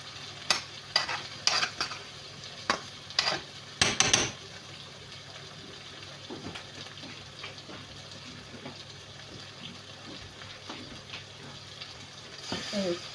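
Meatballs frying in a pan as a home cook turns them, giving a steady low sizzle with a few sharp clatters of stirring near the start and a brief burst near the end.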